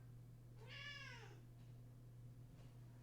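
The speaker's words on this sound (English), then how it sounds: "your cat meowing on stream" A cat meows once in a clear, drawn-out call over a steady low hum, fairly faint and close, followed by quiet.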